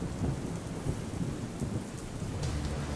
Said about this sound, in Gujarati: બનાસકાંઠા સહિતના જિલ્લામાં ધોધમાર વરસાદ વરસ્યો હતો